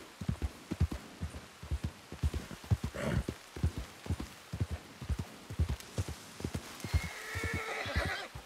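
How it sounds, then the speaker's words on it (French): A horse in a western video game whinnies loudly around the middle of the clip over steady clip-clop hoofbeats and light rain, with a second, fainter whinny near the end. "Alors, c'est un cheval."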